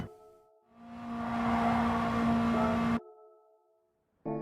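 Subaru WRX race car in Gran Turismo 7 on the Tokyo Expressway, its engine surging loud and steady with a sustained rev for about two seconds, then cutting off sharply to a quiet idle before flaring up again.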